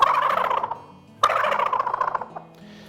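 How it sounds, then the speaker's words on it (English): Male wild turkey gobbling in spring woods: two rapid, rattling gobble bursts, each a loud descending warble, with a short pause between them. "the other call that is very distinctive that the male turkey makes"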